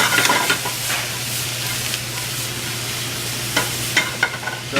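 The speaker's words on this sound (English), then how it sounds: "the pan with mushrooms and garlic, capers, okay, a little bit of olive oil" Mushrooms, garlic and capers sizzle in olive oil in a pan, a loud steady fry with scraping stirs and clinks of a utensil against the pan at the start and again near the end.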